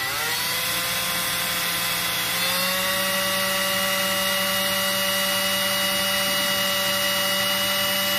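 A power drill bores a hole through an Arrma Mega 4x4 differential input part, a steady whining drone that holds at a constant pitch and rises slightly partway through, close and continuous with no talking.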